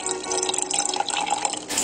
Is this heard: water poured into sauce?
yes